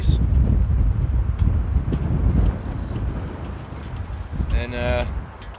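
Strong, cold wind roars across an open microphone at Amsterdam airport, a heavy continuous rush that eases slightly midway, with a brief tonal whine near the end.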